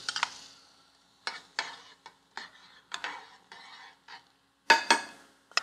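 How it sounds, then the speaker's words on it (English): Soup stirred in a pot for a Central Italian seafood dish, with a spoon scraping and clinking against the sides in irregular strokes, separated by brief pauses and ending in a louder clatter. "give this one good stir, and then we're going to add it to the soup and stir it in"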